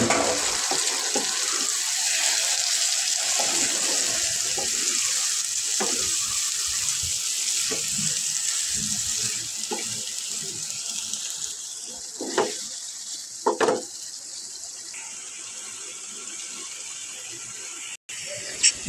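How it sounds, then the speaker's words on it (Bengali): Fish frying in a pan in a home kitchen, a steady broadband sizzle running continuously throughout, with a few sharper pops and clatters near the end. "ঝটপট করে মাছ রান্না করে নিচ্ছি।"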